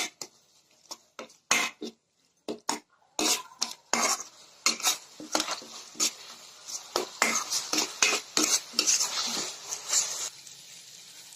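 Tomatoes with turmeric stirred in a pan for egg curry: a spoon scraping and clinking against the pan in quick irregular bursts, fairly close, with brief pauses between strokes and no talk.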